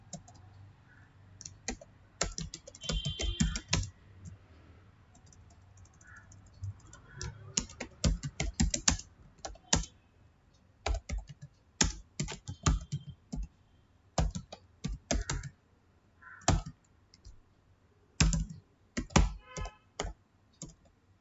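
Bursts of typing on a computer keyboard as C++ code is entered for a calculator program, crisp close key clicks in quick irregular runs separated by short pauses, with no talk.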